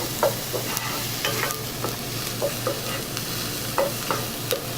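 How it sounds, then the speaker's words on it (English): Onions, ginger and garlic sizzle and fry steadily in a pan while a utensil stirs and scrapes in irregular clicks, close up with no talking. "Ginger and garlic are also getting sauteed"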